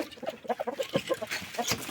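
Chickens and roosters in a dirty farmyard pen near pigs give short clucks and a few longer calls in quick irregular bursts, fairly close and moderately loud.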